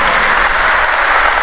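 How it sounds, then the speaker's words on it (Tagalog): A church congregation claps in a dense, steady burst of applause, many hands together filling the space evenly for a short moment. "Palakpak na lang, palakpak."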